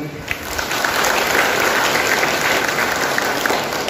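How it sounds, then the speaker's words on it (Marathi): Audience of women at a lecture breaking into dense, sustained clapping that swells quickly and holds loud and steady throughout. "तुम्ही स्वतःसाठी आता टाळ्या वाजवा बघू"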